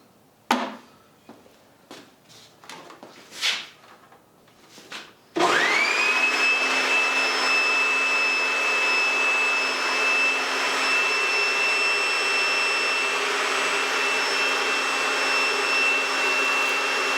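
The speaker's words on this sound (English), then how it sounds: "hold the leaf blower a little bit farther back and see how long it takes for them to actually blow off" A leaf blower kicks in abruptly after a few scattered thumps and taps, then roars loud and steady with a whining high tone, blasting at Post-it notes from a little farther back.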